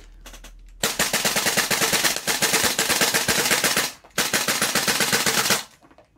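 An MWS gas blowback airsoft rifle fires rapid full-auto bursts, loud and close: one long string of sharp cracks, a brief gap, then a second burst that thins out near the end as the gas runs low.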